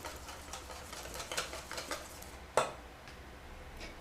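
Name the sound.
whisking vegetable oil into an emulsion in a bowl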